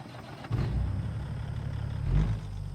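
Heavy truck engine in American Truck Simulator, a steady low rumble that swells slightly around the middle and again near the end, close and continuous with no talk.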